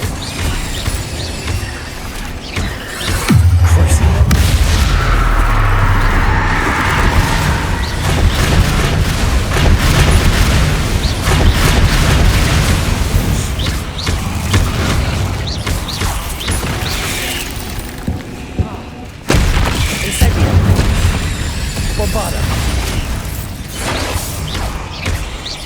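Incendio fire spell casting in the Hogwarts Legacy video game: loud, dense whooshing and crackling bursts with rumbling low booms, sustained through combat with a brief drop before the roar resumes.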